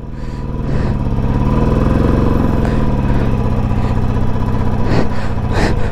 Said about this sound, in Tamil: ராயல் என்ஃபீல்டு அங்கே ஏற மாட்டுது